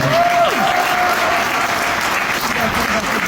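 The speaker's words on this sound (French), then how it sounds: "Je remercie particulièrement Emmanuel Camille, vous pouvez l'applaudir s'il vous plaît." Steady, loud audience applause fills the hall at the Victoires de la Musique awards ceremony, with a voice and a sustained musical tone rising briefly above it near the start.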